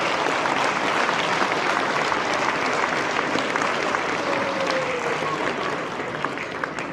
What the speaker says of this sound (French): tous ensemble, encore une bonne main d'applaudissements